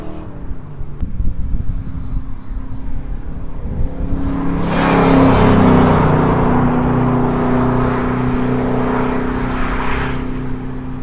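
An old car engine, a Porsche 944 or C4 Corvette, idling with a low steady rumble, then revving up and holding a louder droning tone before easing slightly, close by with no talk.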